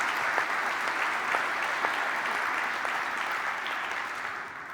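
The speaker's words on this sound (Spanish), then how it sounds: "En agradecimiento sugiero un aplauso." An audience at a cultural panel discussion applauding together, a sustained close wash of clapping that holds steady for several seconds and slowly fades slightly.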